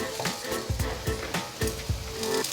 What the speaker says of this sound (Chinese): 把杏鮑菇煎成焦黃色